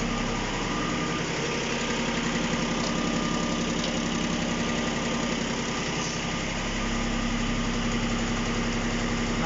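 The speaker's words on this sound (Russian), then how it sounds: "Сейчас мы поднимем фрезу повыше и включим ее." A Japanese mini tractor with a rotary tiller runs steadily nearby, its engine idling with an even mechanical hum and vibration throughout, no voices.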